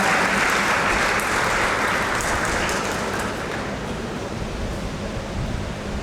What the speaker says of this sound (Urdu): میں آپ سب کو بھرپور تالیوں میں اپنے اس ایمان کی بڑی عید مبارک کہتا ہوں